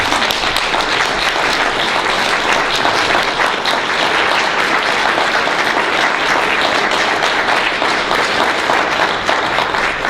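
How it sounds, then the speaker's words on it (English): An audience at a nonprofit's annual meeting applauds its current and former staff. The clapping is loud and dense and holds steady for the full ten seconds. "They really deserve a round of applause."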